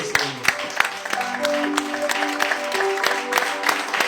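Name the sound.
congregation applauding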